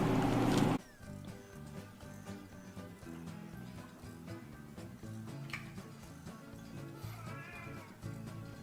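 A cat meows in a room, its cries rising over a steady background of indoor noise after a brief loud burst at the start, with no talking.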